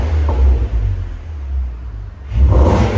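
A V6 car's exhaust gives a deep, steady low rumble, loud and close, easing briefly before swelling again near the end, with no one talking.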